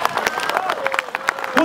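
Applause and crowd noise at a company talk on health and happiness, a dense burst of clapping with some voices mixed in, close and fairly loud throughout.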